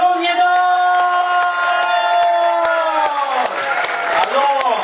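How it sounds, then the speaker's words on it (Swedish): Applause and cheers from a crowd greeting a band on a bingo cruise show, heard under loud sustained music and voices, with a few whoops and clapping emerging toward the end. "En stor varm applåd!"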